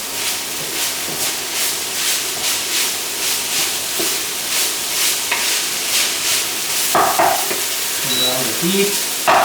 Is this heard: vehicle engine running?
no